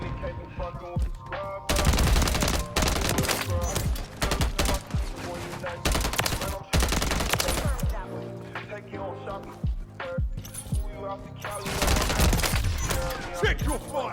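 Close, loud gunfire from Modern Warfare 3 multiplayer, with repeated bursts of automatic shots separated by short pauses, layered over game sounds and music.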